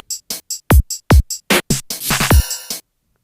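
Looped two-bar beat assembled from tiny 100 ms percussive sample layers: clipped, punchy hits with deep booming drops, sharp clicks and a brief buzzy tail, loud and close with a choppy, stuttering rhythm.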